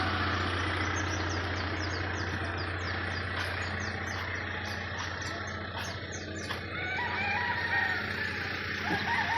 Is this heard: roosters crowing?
yes